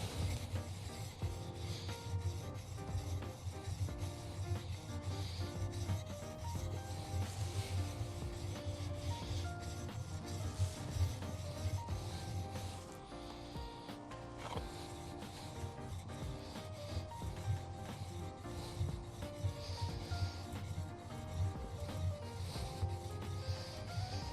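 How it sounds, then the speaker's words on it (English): A chisel being sharpened on a diamond stone or Japanese waterstone, a close, continuous rasping rub of steel strokes back and forth with a brief lull midway, heard alone without talk. "And now I can really feel it starting to like grip on the stone."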